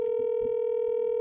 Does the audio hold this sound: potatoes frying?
no